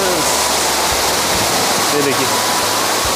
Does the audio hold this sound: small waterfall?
yes